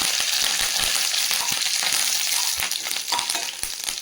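Mustard seeds and dried red chilies fry in hot oil with a dense, steady crackling sizzle that is close and fairly loud, peppered with small pops and spits as the seeds burst, and no talking.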